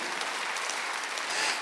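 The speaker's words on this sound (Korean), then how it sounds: "박수하세요." A church congregation claps together during a Sunday worship service, a brief, even wash of applause with no voices over it.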